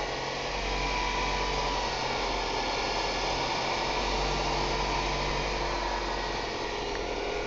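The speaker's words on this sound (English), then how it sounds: "But the engine sounds good." A 1993 Ford Escort LX engine idles steadily with a constant low hum and whir, no knocking or ticking evident, recorded close and continuous without talk.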